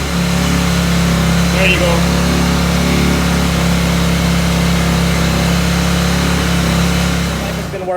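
A KTM 390 Duke single-cylinder motorcycle engine runs steadily and loud up to about 4,000 RPM, a constant droning hum throughout, with someone speaking briefly over it.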